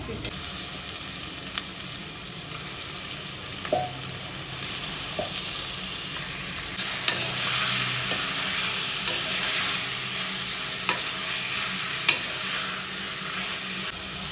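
Chicken fries in a pan with an onion and tomato tempering, giving a continuous bright sizzle with occasional soft stirring clicks. The sizzle grows a little louder partway through.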